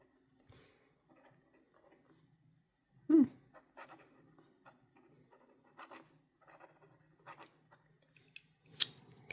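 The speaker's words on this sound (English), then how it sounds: "Let me do a quick writing sample." An extra fine fountain pen nib scratches across paper in soft, irregular strokes and short scrapes, faint and close, with a few quiet rustles between them.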